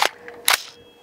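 A 5.56 green tip round fired from an AR-15 with an 18-inch barrel at a Level 3 ballistic armor plate, two sharp cracks about half a second apart with a short ringing tail, heard at a distance.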